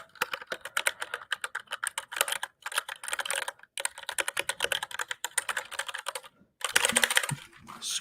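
Typing on a Keychron mechanical keyboard, rapid bursts of crisp clacky keystrokes in quick runs with short pauses between, close and clear.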